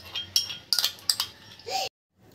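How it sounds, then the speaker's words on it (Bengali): A spoon clinks and scrapes against a pot while sour yogurt is stirred into warm milk, several sharp metallic taps and a short scraping swirl, fairly close and quiet, ending abruptly in silence. "টক দই দিয়ে ভালোভাবে এটা মিশিয়ে নিয়েছি।"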